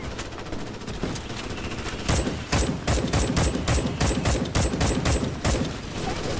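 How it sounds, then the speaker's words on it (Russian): Rapid gunfire from the video game Starship Troopers Extermination: a continuous rattle of shots that turns into loud, sharp bursts of closely spaced reports, with no talking. "Это называется стрельба на вскидку."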